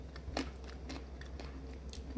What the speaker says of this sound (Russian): Это сушеная редька, которая хрустит